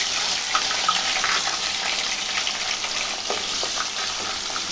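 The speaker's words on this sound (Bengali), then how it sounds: "ভালোভাবে ভেজে নিব।" Onion-garlic paste frying in ghee in a wok on a cylinder gas stove for a beef and potato curry gives a steady, close, hissing sizzle with small crackles throughout, and no voices.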